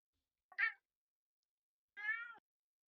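A cat meows twice, a short call then a longer drawn-out one after a pause, faint against otherwise silent surroundings.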